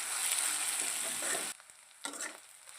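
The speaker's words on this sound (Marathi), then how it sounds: "लसूण मिरची चांगली भाजायची।" Garlic and green chillies frying and being stirred in a pan, a loud close hiss that cuts off abruptly, then a softer sizzle returns after a short pause.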